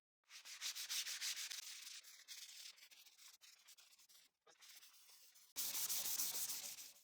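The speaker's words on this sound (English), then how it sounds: "I finish the surface with additional sanding, using 220 grit" Sandpaper of 220 and 360 grit rubs across a wooden surface in steady back-and-forth strokes, a close rasping hiss that pauses briefly between passes and returns louder at the end, with no talking.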